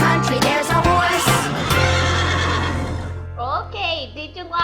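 A horse whinnies loudly in a children's farm-animal song, a long neigh with shaking pitch rising and falling, followed by shorter snorting whinnies, with singing and music underneath at the start.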